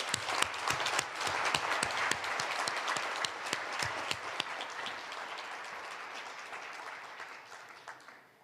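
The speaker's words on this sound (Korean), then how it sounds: "다 같이 열렬한 박수로 환영하겠습니다." Sustained applause from an audience at a national prayer breakfast welcoming the president, with steady, even clapping that slowly tapers off near the end.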